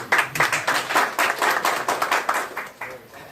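A crowd claps in a burst of quick, loud applause that fades out after a few seconds.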